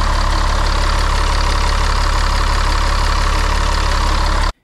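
A Caterpillar diesel engine idles in an RV with a loud, steady, low rumble and broadband vibration that holds constant throughout and then cuts off abruptly at the end.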